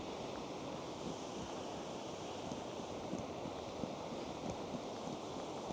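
Lumsdale Waterfalls in the Peak District rush nearby, a steady, fairly faint broadband roar of falling water with no break.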